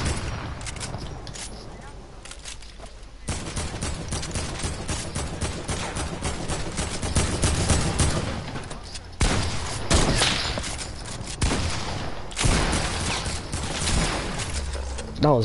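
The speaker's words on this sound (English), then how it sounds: "Shoot it, shoot it. Just shoot it." Rapid, sustained bursts of video game gunfire fill the scene almost without pause, with short breaks between volleys and voices talking over the shooting.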